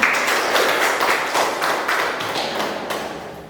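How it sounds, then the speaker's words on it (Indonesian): A classroom of students applauds a classmate who answered correctly, a dense wash of claps that stays loud and steady before gradually thinning toward the end. "sekarang kita kasih aplaus sama temannya"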